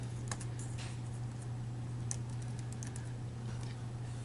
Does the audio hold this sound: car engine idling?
no